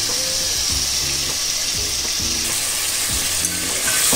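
Mutton sizzles and fries steadily in a hot pan as garlic paste goes in, with a dense continuous crackle and a few stirring scrapes, close and fairly loud with no talking.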